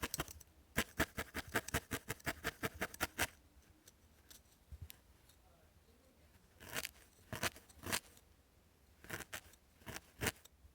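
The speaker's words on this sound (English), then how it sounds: "I will cut the fleece away, or the sticky whatever I can find." Scissors snip fleece away from an old sweater, quiet close crisp cuts in quick rhythmic runs separated by short pauses, with no voices.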